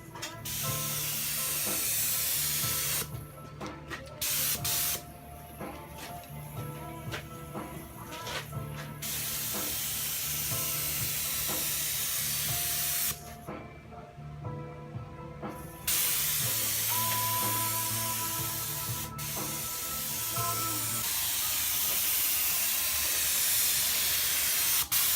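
Black sealer spraying onto a car body panel during DIY bodywork repair, a steady close hiss that runs in long bursts with brief pauses between passes.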